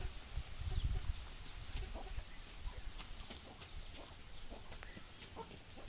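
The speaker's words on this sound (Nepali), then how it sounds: "औ अब बसेको कुखुरा" Chickens clucking on a farm where goats are also kept, faint scattered clucks over a low rumble of outdoor noise.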